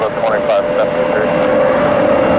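A jet airliner at Detroit Metro Airport rolling for takeoff, its engines giving a loud, steady roar with a sustained whine throughout, with radio voices heard under it.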